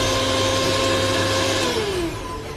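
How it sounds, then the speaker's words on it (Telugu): A mixer grinder powered by a UPS whirs loudly and steadily with a high motor whine, then its pitch drops as it begins to wind down. "ఇంకా మనకి మిక్సీ కూడా వర్క్ అవుతుంది."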